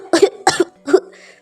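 A woman choking on food gives three sharp, close coughs in quick succession, each a short rough burst, followed by a faint breathy trailing sound.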